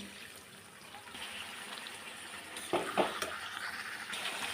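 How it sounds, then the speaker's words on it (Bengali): Chicken curry fries in a pan after a cup of water is added, with a soft steady sizzle and faint scraping and stirring clatters that come in a few short bursts near the end. "এখন আমি এই যে দিয়ে দিলাম এক কাপ পরিমাণ জল"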